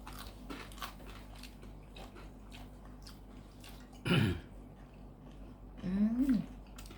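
Hog plum shoots bitten and crunched while eating with rice and chili dip, two distinct crisp bites up close, around 4.2 and 6 seconds, set against a low background hum.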